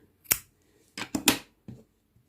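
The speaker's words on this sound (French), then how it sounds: "je vais couper une bonne longueur pour coudre" Scissors cut a length of wool yarn for crocheting a reindeer: a few crisp, close snips in quick succession, one single and then a tight cluster, with a faint last click and no talking.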